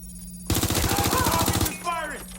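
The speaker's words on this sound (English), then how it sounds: "He's firing." Automatic gunfire in Watch Dogs: Legion, a loud burst of rapid shots lasting about a second, followed by fainter game sounds.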